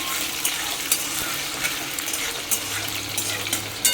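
Potato pieces frying in oil in a pan over cumin and dried chilli, a steady close sizzle with occasional sharp pops and spatters.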